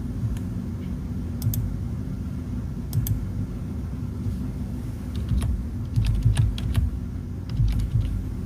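Quiet keyboard typing clicks in short irregular bursts over a low steady rumble, with no talking.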